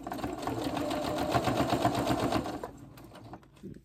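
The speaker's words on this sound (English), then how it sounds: "I'm just gonna stitch all the way around" A sewing machine stitches around a quilted in-the-hoop bowl cozy with a fast, even mechanical chatter, close and loud for about three seconds before stopping.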